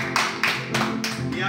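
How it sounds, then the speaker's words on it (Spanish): A few people clapping for a birthday: a handful of separate, sharp claps in a slow, uneven rhythm, close by and moderately loud. "Un aplauso, por favor."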